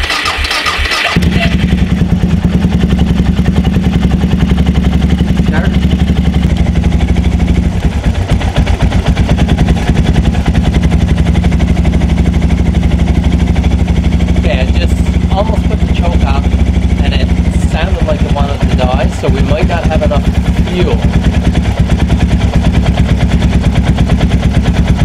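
A Suzuki DR650 motorcycle, just back from carburetor and float bowl work, cranks and catches, then idles loud and close with a steady thumping single-cylinder run for the rest of the clip, with a voice talking over it now and then.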